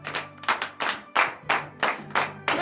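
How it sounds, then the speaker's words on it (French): A church congregation at a morning prayer service in Benin claps hands in praise, loud rhythmic bursts of clapping in a steady repeating pattern, about two clusters per second, with no talking. "Donnez l'acclamation à l'Éternel."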